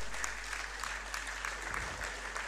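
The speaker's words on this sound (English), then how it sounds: "Another round of applause for that very great lecture." Audience applause after a university inaugural lecture, a steady wash of clapping from a hall crowd lasting throughout, fairly even and moderately loud with no speech over it.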